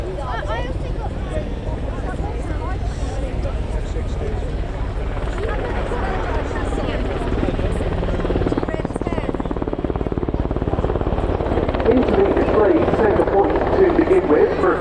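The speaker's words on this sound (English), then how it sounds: "It's the NH Industries NH90 TTH, the Technical Transport Helicopter." A NH Industries NH90 TTH transport helicopter hovering at the RIAT airshow gives a steady, loud rotor and turbine roar for the whole stretch, with crowd voices and wind noise mixed underneath.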